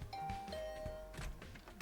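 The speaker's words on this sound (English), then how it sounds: "I rang the bell by the side of the door." Doorbell beside a door in the video game The Hundred Line: Last Defense Academy, a soft two-tone chime ringing out quietly over faint background music.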